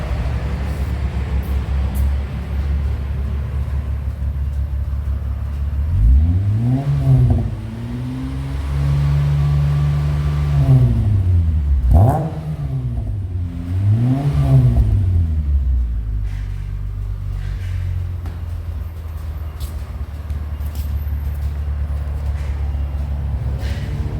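A car engine breathing through a newly fitted, freshly painted exhaust system revs repeatedly from a deep idle rumble, with several rising and falling blips over a steady low burble, close and fairly loud.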